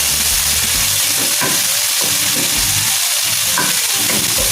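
Dumplings fry in a pan on the stove, a dense, loud, steady sizzle with a few soft stirring scrapes, close and continuous with no talk.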